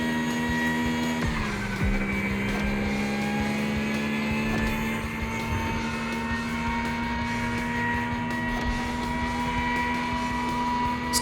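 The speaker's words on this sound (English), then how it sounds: "This car shrieks, though." A car engine shrieks at a high, steady pitch during a race in The Crew Motorfest, a continuous loud drone holding for the whole stretch with a brief shift in tone early on.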